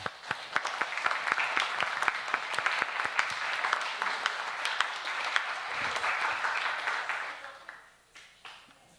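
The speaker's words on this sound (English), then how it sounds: "a warm applause for them also" Audience at an intergenerational service applauds a family, steady crowded clapping with some sharp individual claps, fading out toward the end.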